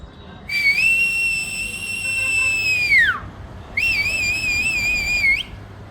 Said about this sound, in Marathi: आज प्रजासत्ताक दिन सत्याहत्तर आहे मी शिट्टी वाजवतो